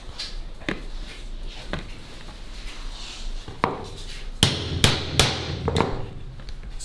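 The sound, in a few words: riveting Kydex sheath pieces together around a knife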